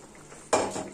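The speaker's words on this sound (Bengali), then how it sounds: "ভাজা মাছগুলো দিয়ে দেবো ঝোলের মধ্যে।" Fried hilsa fish pieces go into a simmering curry in a pan, a single sudden clatter and splash breaking a quiet background.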